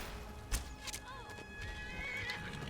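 A horse in the video game Skyrim whinnies in short bursts over busy game noise, with a sharp impact near the start and a steady background din throughout.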